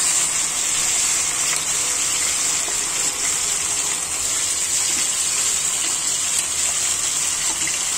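Marinated chicken pieces dropped into hot oil fragrant with spice tempering for a broiler chicken curry, giving a steady, loud, rushing hiss that stays even from start to finish, with no talk.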